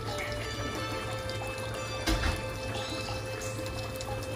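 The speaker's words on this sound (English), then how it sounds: "and then you just pour that into the stew" Blended okra pours into a dry okra stew with tomato paste, a soft, continuous liquid pour with a brief thicker splash midway, heard close under a steady background hum.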